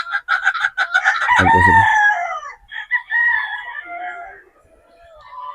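Boston Black gamefowl roosters crow loudly and cluck close by, several overlapping calls in succession, with someone speaking briefly at the start.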